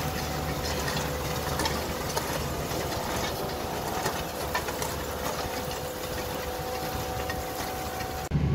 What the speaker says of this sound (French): Et on va aller faire un petit tour de tracteur.